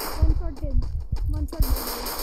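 Rapid bursts of gunfire in the mobile game Free Fire Clash Squad on the Kalahari map, several quick shots close together under someone talking excitedly.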